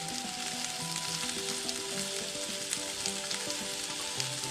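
Sliced onions frying in a pan for Philly cheese steak, giving a steady, close, dense sizzle with faint stirring scrapes throughout and no voices.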